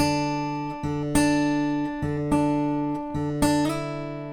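Acoustic guitar fingerpicking a passage from a song, with ringing sustained notes and several plucked attacks and slides every half second or so, played alone and close.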